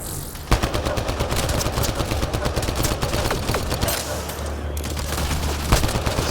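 Rapid suppressing gunfire rattles through a Mass Effect firefight as a steady stream of sharp shots, with a few heavier cracks and background combat noise.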